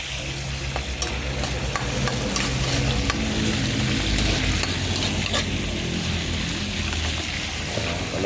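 Tomatoes sauté in a frying pan for a sardine dish, a loud constant sizzle with occasional stirring scrapes throughout, close and without talk.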